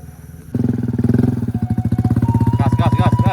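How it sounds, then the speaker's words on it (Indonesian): Big motorcycle riding along a road in Pesisir Selatan toward Solok, its engine bursting in loud and close with a rapid throbbing pulse that holds steady while the rider revs, a voice talking over it. "Jadi moge pun bisa lewat sana."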